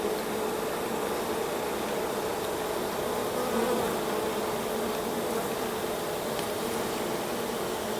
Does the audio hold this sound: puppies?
no